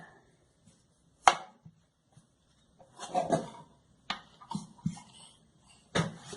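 Sharp knife strokes slicing through layered mille-feuille puff pastry dough measured against a baking tray, a few crisp chops spaced apart, close and fairly quiet.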